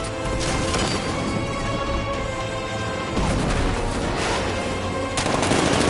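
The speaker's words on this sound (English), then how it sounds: "60mm cannon operational." Continuous heavy gunfire and blasts from a video game battle, loud and dense, with a sharper burst from a 60mm tank cannon toward the end.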